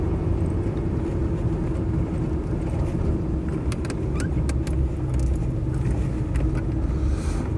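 A Land Rover 90 V8 station wagon with 136,000 miles drives along with a steady, loud engine drone and road rumble from inside the cab, and a few light rattles and clicks on top.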